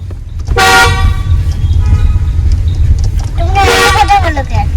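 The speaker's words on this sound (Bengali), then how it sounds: "না না গাড়ি আসে মনে হয় নিচে, হর্ন মারার পরে কিন্তু আরেকটা হর্ন।" Two vehicle horns honk on a road below in Dowhill, Kurseong, each a short loud blast a few seconds apart over a constant low engine rumble.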